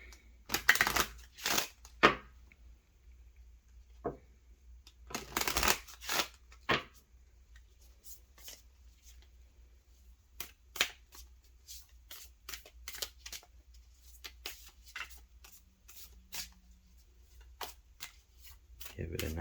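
Several bursts of tarot card shuffling, crisp riffles and flutters spaced across the clip, with quieter taps and brief soft talk in between.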